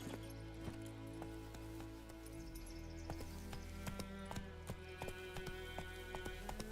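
Horse hooves clip-clopping in The Witcher 3, a steady run of hoof beats over a low, continuous game soundscape with layered background tones.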